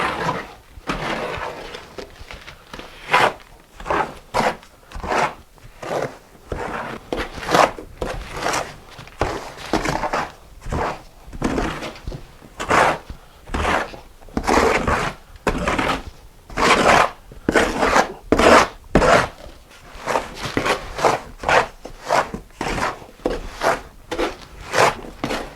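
Sand mortar for a shower pan being mixed by hand, a steady run of loud, close scraping and chopping strokes repeating for about half a minute with no talking.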